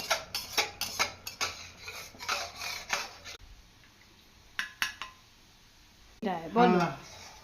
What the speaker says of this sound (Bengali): পোস্ত সর্ষেটাকে একটু কষে দিচ্ছি